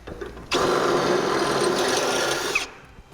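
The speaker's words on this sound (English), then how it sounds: "you're only going to be drilling through the outer half of the frame because it's a box frame" A power drill bores through the outer wall of a Ram truck's boxed frame, a steady high whir that starts abruptly, runs for about two seconds and then cuts off, heard alone.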